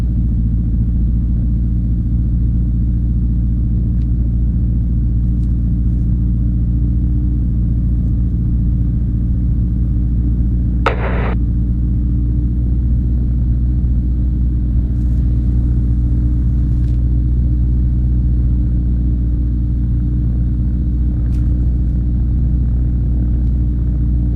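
A gyroplane engine idles in flight, a loud, steady low drone with no change in pitch, with one brief click partway through.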